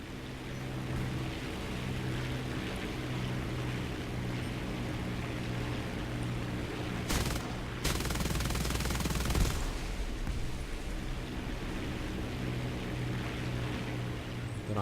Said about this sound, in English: More things for us to pop with our machine guns